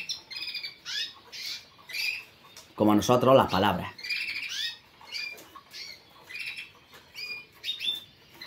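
Young canaries sing in repeated chirping, warbling phrases through the whole stretch, with someone speaking Spanish briefly over them in the middle.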